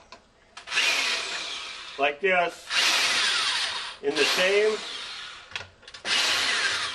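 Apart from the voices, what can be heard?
power drill drilling holes in a wooden splicing block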